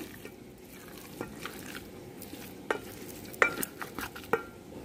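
Gongura chicken pickle being mixed with oil by hand or spoon, soft wet squelches and scattered clicks against the container growing busier toward the end, close and quiet with no voices.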